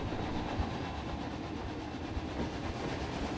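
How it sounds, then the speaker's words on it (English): Train ride in the video game Planet Coaster 2, a steady rolling rumble with faint rhythmic clacks, constant and moderately quiet throughout. "ride the train."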